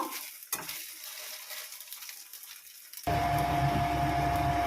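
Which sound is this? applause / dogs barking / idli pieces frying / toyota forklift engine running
idli pieces frying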